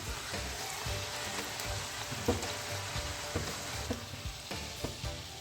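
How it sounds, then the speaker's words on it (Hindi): Puri paratha frying in hot oil, a steady close sizzle with occasional louder pops and crackles as the flatbreads are turned, no voices. "और बाकी के भी इसी तरीके से हम फ्राई कर लेते हैं"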